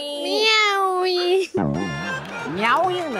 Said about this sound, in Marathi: मांजर कुठून आले काय माहिती